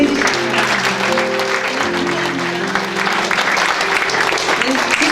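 Audience at a 50th-anniversary commemorative ceremony claps loudly and continuously to honour award recipients, with a sustained tonal hum or music running underneath the dense applause.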